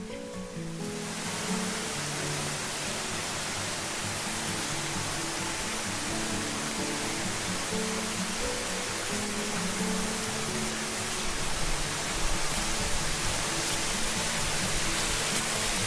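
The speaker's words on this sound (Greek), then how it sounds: "Ακούω νερά, οπότε φτάνω μάλλον στον καταράκτη" Nemoutas waterfall in a lush Greek forest gorge: a broad, steady roar of rushing water that swells in within the first second and then holds constant, loud and enveloping, with no speech.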